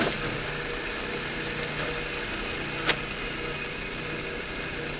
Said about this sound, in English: And I turn on the drill press.